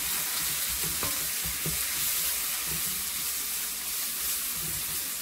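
Onions frying in a pan until soft and translucent, a dense steady sizzle filling the whole stretch with a few faint stirring knocks, close and even, no talk.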